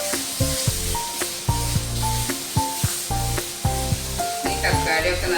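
Tomato paste sizzles in hot oil for a chicken meatball curry, a continuous bright hiss running beneath a louder rhythmic musical backing with repeated plucked notes.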